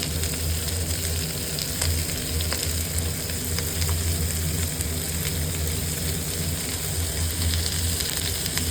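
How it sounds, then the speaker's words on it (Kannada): Goat intestine (boti) frying and being stirred in a pan, a loud continuous sizzle with a low steady hum underneath and scattered scraping ticks, close and unbroken, no voices. "ಈಗ ಇದನ್ನು ಚೆನ್ನಾಗಿ ಸ್ವಲ್ಪ ಚೆನ್ನಾಗಿ ಅಲ್ಲಾಡಿಸಿ ಫ್ರೈ ಮಾಡ್ಕೊಳ್ಳೋಣ"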